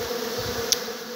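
Bees hum faintly inside a half-full hive box, a steady, low drone with one brief, sharp buzz as a bee passes near.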